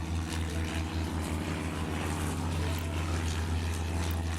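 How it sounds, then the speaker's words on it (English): Droning propeller engines of early planes taking off in an airport-management game set in 1925–1928, a steady low hum with a rumbling buzz, continuous and moderately loud with no talk. "as soon as they're clear and taking off, the next plane can take off too"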